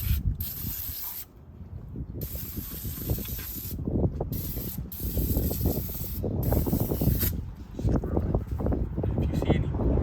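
Cleaner sprayed onto the engine bay of an Infiniti G37S, bursts of hissing spray in short and longer pulses alongside scrubbing and handling noise, with people talking intermittently.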